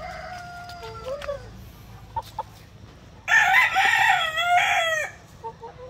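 Gamecock rooster of a fighting-cock breed crowing loudly and close on a farm, one long strained crow in the second half, with softer clucks and calls from other fowl before it.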